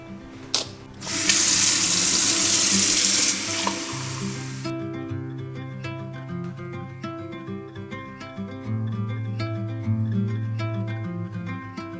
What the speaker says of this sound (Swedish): Vi har vatten. Jag tar ett glas vatten.